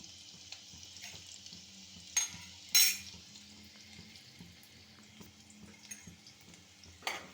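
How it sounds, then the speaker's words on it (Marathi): Finely chopped onion frying in hot oil for a fish curry gives a steady soft sizzle, broken by a few sharp utensil clinks against the pan. "आपलं तेल तापले. आता आपण यामध्ये इथं चिरून ठेवलेला बारीक कांदा घालूया."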